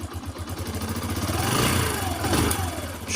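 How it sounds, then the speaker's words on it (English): A Yamaha XTZ 125 motorcycle engine revs with the choke on. The close, steady, loud engine note rises and holds, with a rapid clattering pulse running underneath. "I'm going to try and rev the bike with the choke"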